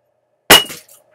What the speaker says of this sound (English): Got a broken bottle. We got glass all over the place.